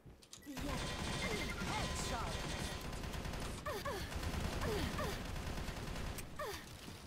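Dense, continuous gunfire and blasts in the shooter game Battle Carnival, loud rapid bursts throughout with gasping and vocal sounds mixed in.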